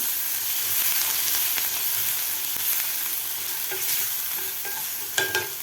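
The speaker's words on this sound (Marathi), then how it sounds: "आता इथे सुद्धा आपल्याला एक मिनिटभर व्यवस्थित परतून घ्यायचं आहे" Chilli garlic paste sautéed in a pan, a continuous sizzle and frying crackle with occasional spoon scrapes and taps, close up and without speech.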